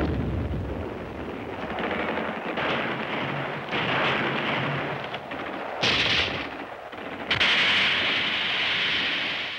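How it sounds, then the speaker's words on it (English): Rumbling WWII Pacific combat with small arms gunfire and explosions, a dense continuous roar of shots and blasts with louder bursts near the end, and no speech. "They must be killed by small arms fire."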